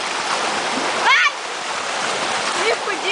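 River water rushes and splashes over a raft, a loud, continuous roaring wash with a heavier surge about a second in, and voices cutting in briefly over the spray.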